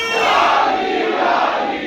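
A mosque congregation loudly chants religious slogans in unison, a dense roar of many voices sustained and steady from start to finish.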